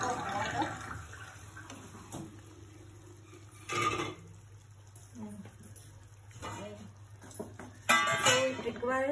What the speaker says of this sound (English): So now I'm adding the water.